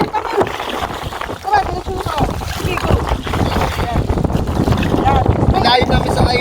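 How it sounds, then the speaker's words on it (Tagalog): Strong wind buffeting a small paddled boat off Lion Island, Papua New Guinea, a steady loud roar with gusty rumbling and water splashing close by. "Tinutulak kami ng hangin."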